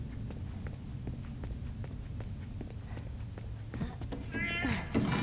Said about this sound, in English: Fucking cat.